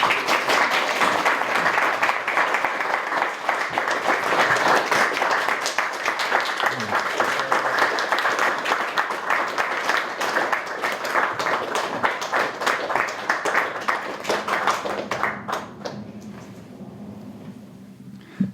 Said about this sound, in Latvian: Un sveiksim ar aplausiem skolotāju un mūsu viesus